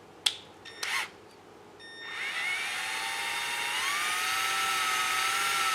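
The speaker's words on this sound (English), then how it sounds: "3/8 drill bit here, just drill right through it." A power drill with a 3/8 bit whines up and bores through a grommet while installing a tow hitch on an Audi, a steady high motor drone after a few clicks and handling knocks.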